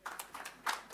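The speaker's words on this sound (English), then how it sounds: "You've given her a round of applause, have you?" Brief, faint applause at a conference on positioning Rwanda as a fund domiciliation hub, a handful of scattered claps heard from a distance without talking.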